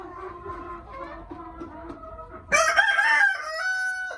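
A rooster crows loudly nearby on a desi chicken farm, following softer clucking from other chickens.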